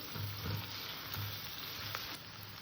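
Ginger garlic paste with onion fries in a pan with a steady, close crackling sizzle that goes on throughout, with occasional faint stirring and no talking.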